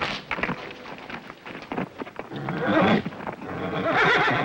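A horse whinnies loudly, its neigh rising and shaking, mixed with clopping hooves and a rumbling background.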